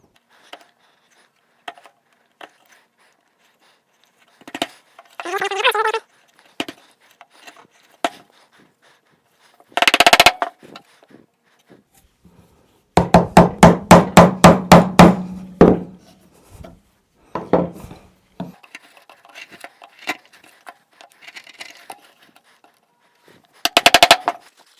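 A Dewalt chisel is struck into wood while cutting a mortise along a knife line, with scattered sharp taps and then a quick burst of about a dozen rapid mallet blows, each a crisp, close woody knock.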